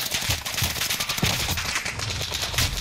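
Rapid video game gunfire in Plunder mode, a dense stream of shots continuing throughout at steady loudness.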